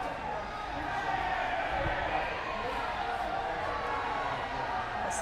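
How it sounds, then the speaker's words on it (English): A crowd at a high school hockey game between the Milford Scarlet Hawks and Hopedale/Millis murmurs and shuffles restlessly in an arena, a steady background din with a commentator talking over it. "As the crowd grows restless."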